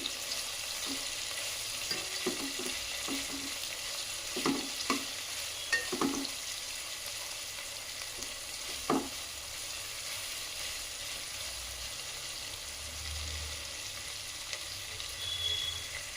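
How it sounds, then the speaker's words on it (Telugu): Onions and slit green chilies fry in a pan, a continuous quiet sizzle with a few soft knocks and scrapes of stirring in the first half, then a steady hiss alone. "ఈ ఆనియన్స్లోనే మనం ముందుగా పక్కన పెట్టుకున్న పచ్చిమిర్చి చీలికలు కూడా వేసుకోవాలండి వీటన్ని వీటన్నింటినీ దోరగా ఫ్రై చేసుకోవాలి"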